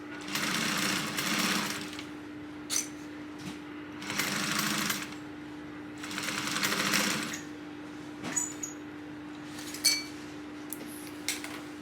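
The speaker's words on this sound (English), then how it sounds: "So you're going to back stitch the beginning and end of your seams" A sewing machine back-stitches the seams of a tote bag in three short whirring runs, separated by pauses with light clinks and handling noises and a steady background hum.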